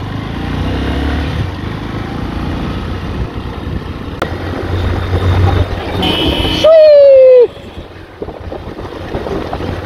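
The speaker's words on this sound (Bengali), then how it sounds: "সেই ফাঁকা রাস্তায় বাইক চালানোর মজাই একটা আলাদা।" A motorcycle rides along an empty road in the early morning toward the India-Bangladesh border. A steady roar of engine and heavy wind buffeting fills the clip, broken by one loud horn blast near the end.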